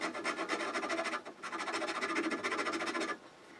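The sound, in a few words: rasp shaping a wooden chess piece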